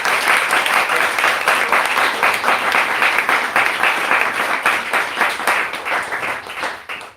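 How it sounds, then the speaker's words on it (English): Dense, loud clapping from the audience at a kirtan gathering in London, steady and enthusiastic for several seconds before tapering off near the end. "So let's give a big round of applause."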